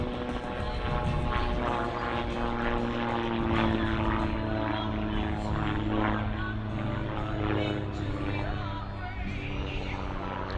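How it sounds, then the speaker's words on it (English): Calidus autogyro, a gyrocopter, flying a display at the Weston Park Air Show 2025, its propeller engine droning steadily and fairly loud throughout with a continuous rotor and engine hum. "The name Autogyro was a trade name for the Sierra's make of aircraft nowadays. They're also known as gyrocopters"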